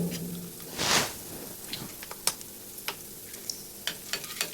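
Red chili and asafoetida fry in a little oil over a low flame for tomato poha, giving a faint crackle with scattered sharp pops and ticks and one brief louder hiss of stirring.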